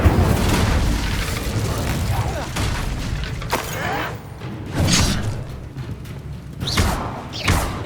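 The Incendio fire spell bursts in Hogwarts Legacy amid a busy combat scene, several whooshing booms and thuds flaring one after another over constant rumbling, with a voice speaking between them.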